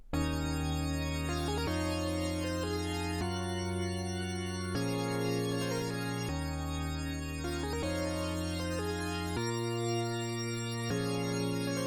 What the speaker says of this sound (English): I added an organ, again made in Serum